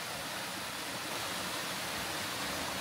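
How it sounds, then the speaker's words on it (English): A small creek running across a hiking trail, a steady, soft rushing of flowing water that continues evenly throughout. "here we have one of the many small creeks, rivulets, whatever you want to call it,"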